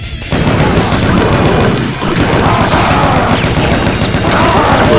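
Loud, dense, nonstop gunfire from a weapon in the game Brutal Doom, a dense stream of shots with crashing impacts that continues almost without a break.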